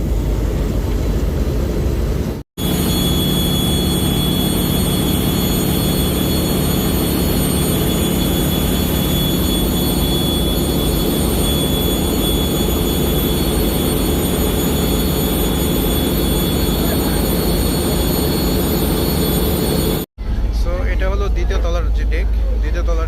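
A passenger launch's diesel engine drones steadily at 700 RPM, a loud, low continuous roar filling nearly the whole stretch, with brief cuts at the start and end.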